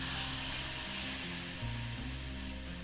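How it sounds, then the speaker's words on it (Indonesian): Milk poured into a pan of sizzling butter and flour roux gives a dense, steady frying sizzle with a low droning hum underneath, close and continuous. "Nah, ini kita tuang susunya."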